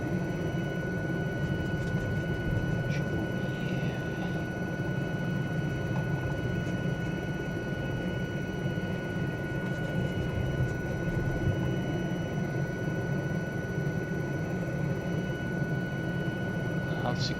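Aérospatiale SA316 Alouette III helicopter taxiing on its wheels, rocking on its suspension, a steady loud turbine whine and rotor drone with a high tonal hum, holding constant throughout.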